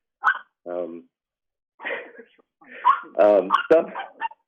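A dog makes short barks and whimpering yips several times in the foreground, close and fairly loud, in short bursts separated by brief pauses.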